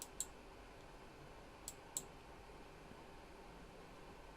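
A computer mouse clicks quietly a few times, once early and then twice in quick succession, over a soft, steady hiss of room noise, with nobody speaking.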